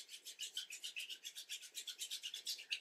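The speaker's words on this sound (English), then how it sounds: "just start to give your hands a rub to create some friction and heat and energy" Two hands briskly rubbed together for friction and heat during a yoga session, a quick regular back-and-forth swish of about seven strokes per second, close and soft, with no voice.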